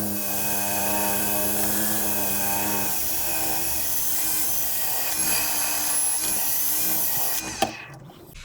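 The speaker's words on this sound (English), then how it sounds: "let's get set up here, do some sanding" A power sander with 80 grit runs steadily on a meranti wood and resin placemat, producing a loud, continuous whir and grinding hiss that cuts off near the end.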